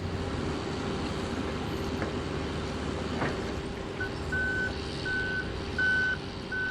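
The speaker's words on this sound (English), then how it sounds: "First, a front loader scoops up concrete pieces." A front loader truck works at a concrete recycling yard, its steady engine rumble continuous throughout while a reversing alarm starts partway in and beeps in a regular, evenly spaced rhythm, loud and close, with no talking.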